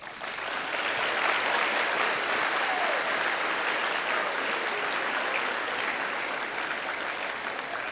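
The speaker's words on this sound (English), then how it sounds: "Please take a minute to recognize all of our guests with a round of applause" A large audience at a high school senior honors ceremony claps for guests, a dense, steady wash of applause that holds at full strength for the whole stretch with no voices over it.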